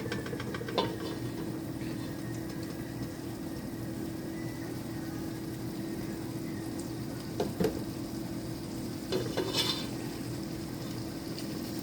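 Chicken being stirred in a hot pan gives a steady, quiet sizzle throughout, with a few faint scrapes and clinks of the utensil against the pan.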